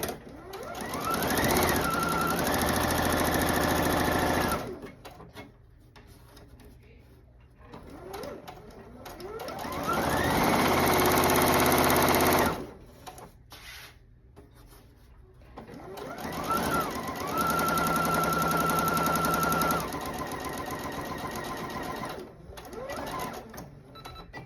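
A sewing machine stitches a narrow rolled hem for a ruffle in three long loud runs, each rising in speed, with quiet pauses between them.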